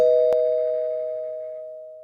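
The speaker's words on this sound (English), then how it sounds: "I'm loving that doorbell too." A doorbell sounds once with a sustained, ringing electronic tone that decays slowly over about two seconds, loud and close with a brief click near the start.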